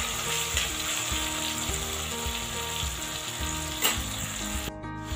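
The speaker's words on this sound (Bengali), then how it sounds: "টমেটোগুলোকে আরেকটু ভেজে নেব" Tomatoes fry with green chillies and spices in a pan for a Bengali pabda fish curry, a continuous close sizzle with occasional stirring scrapes and a brief clink near the end.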